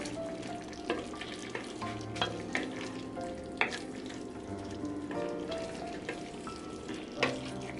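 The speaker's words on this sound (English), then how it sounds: "So I'm just gonna mix it really good so that the oyster sauce is well blended" Pork and chicken adobo with oyster sauce being stirred in a pan, a steady sizzle with repeated spoon scrapes and clinks against the pot, close and fairly loud, with no talking.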